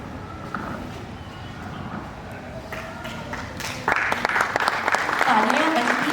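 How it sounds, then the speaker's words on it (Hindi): Audience applause at a Hindi stage play event as guests are honoured with shawls and mementos, steady clapping that swells louder midway, with voices talking over it. "तालियां बजती रही"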